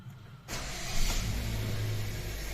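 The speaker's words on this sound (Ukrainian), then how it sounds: "Так, хендайчика повністю зібрав, зараз буде перший запуск." A 2011 Hyundai Accent 1.6 engine makes its first start after an engine repair: a brief quiet moment, then the crank catches and the motor settles into a loud, steady idle nearby.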